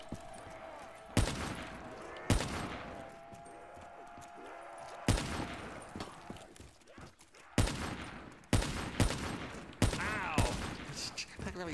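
Gunfire in the Black Ops 3 Zombies mode on the Shadows of Evil map, loud separate shots and short bursts at irregular intervals, with a player talking between them.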